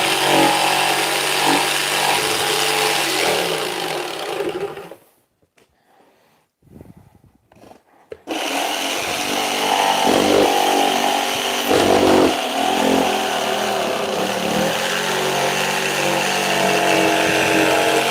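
A jigsaw cutting a disc for a model TIE fighter, a loud buzzing motor drone that stops for about three seconds, then resumes and runs steadily to the end, with no speech.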